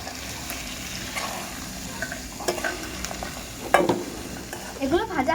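Chickpeas and soybeans fry in a pan while a spatula stirs them, giving a soft continuous sizzle broken by scraping strokes and a few sharper clinks near the end.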